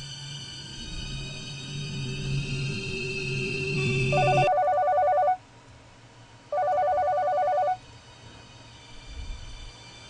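A cordless home phone rings in two electronic bursts separated by a pause, loud and close, following a brief stretch of low background hum.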